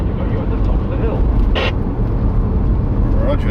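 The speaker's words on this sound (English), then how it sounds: "I don't know what car was going up past us then" A car, apparently on fire and trailing smoke, drives up a hill on a UK country road near Wilsford, heard as a steady, loud rushing drone with wind noise, while a voice talks over it.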